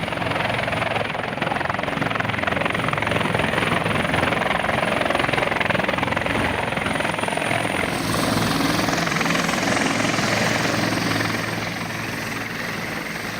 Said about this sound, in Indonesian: Helikopter yang membawa tenaga kesehatan dan guru berhasil dievakuasi dari Alama menggunakan helikopter Karakal milik TNI Angkatan Udara